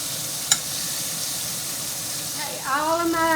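Country fried steak frying in grease in a home kitchen pan, a steady broadband sizzle throughout with a brief sharp tick early on, and a voice or tonal sound rising over the sizzle near the end.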